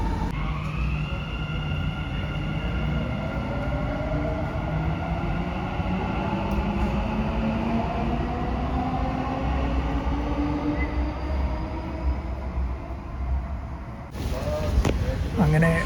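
A Dubai Metro train runs toward Sobha Realty station, its electric motors whining in rising and falling tones over a steady rumble of the carriage, with a short louder burst near the end.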